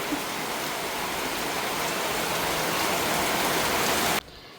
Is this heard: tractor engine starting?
no